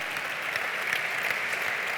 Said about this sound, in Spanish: Vamos a dar un fuerte aplauso a Elena Gras, a Sara Valverde y a Cande Almenar